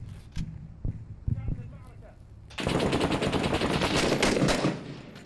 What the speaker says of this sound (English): I shot 60 million times in you! I'm reloading!